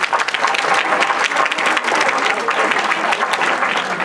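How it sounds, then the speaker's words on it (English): Audience applause for a performer who has just recited a shloka, steady dense clapping from a crowd filling the whole stretch, close and fairly loud. "Let's give a big round of applause for Srinideva"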